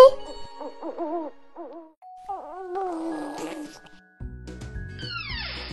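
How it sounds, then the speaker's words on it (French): A toy magic wand gives a sequence of electronic owl hoots, several short wavering calls in a row, followed by a bright descending chime and a sparkly toy jingle, loud and close. "je vais faire apparaître un hibou"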